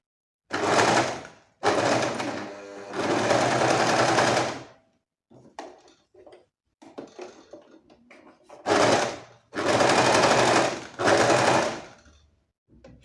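A serger overlock sewing machine stitching very light fabric runs in loud, close bursts of rapid whirring, stopping and restarting several times, with quieter handling and fabric rustles between runs.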